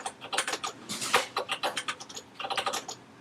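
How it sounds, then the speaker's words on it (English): Rapid, uneven clacking of keys on a computer keyboard, close by, in irregular bursts with brief pauses. "I'm having a hard time typing."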